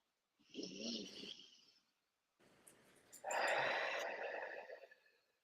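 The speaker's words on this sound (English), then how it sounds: "Take a deep breath." A person draws a deep breath, heard close and quiet: a short airy inhale, a pause, then a longer, fuller breath that trails off.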